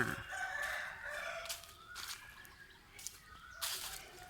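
A rooster crows at a backyard chicken coop behind a rural house near a bamboo grove, with several faint, fairly distant calls rising and falling amid quiet outdoor ambience.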